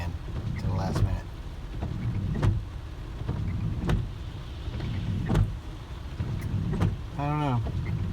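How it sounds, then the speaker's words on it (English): Car windshield wipers in rain sweep with regular soft thumps about every one and a half seconds, under rain and road noise inside the car, with a brief vocal sound near the end. "At least my windshield wipers are not as loud as they were"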